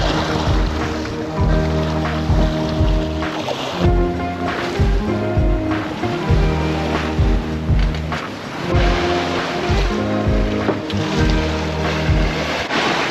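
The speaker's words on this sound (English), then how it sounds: "And now there is 40 knots of wind" Strong 40-knot wind and rolling waves rush past a sailboat at sea, a loud, continuous roar of wind and water with surging swells and a steady rumbling underneath.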